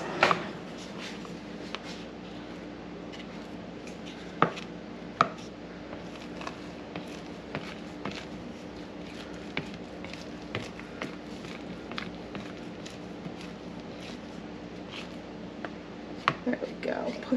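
Spatula scraping and folding lemon pancake batter in a bowl, a steady run of soft taps and scrapes with occasional sharper knocks against the side, under a person talking.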